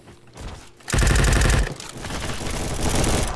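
Automatic gunfire in the Roblox game Bad Business: a loud, rapid burst of shots, then quieter continued firing and clatter.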